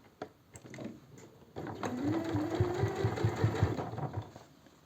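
A sewing machine stitches along pajama piping, starting with a few hesitant clicks and then settling into a steady, close rhythmic chugging hum with a rising whine as it picks up speed.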